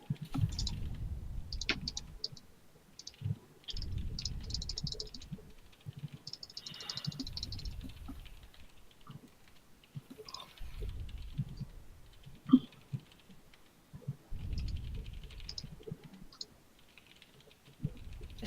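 Someone types on a computer keyboard in irregular bursts of rapid key clicks separated by short pauses, close and moderately quiet throughout with no talking.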